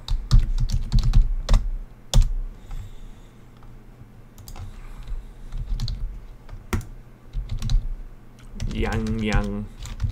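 Typing on a computer keyboard at a desk: bursts of sharp clicking keystrokes, some clustered and some isolated, close and fairly loud, with a person talking briefly near the end.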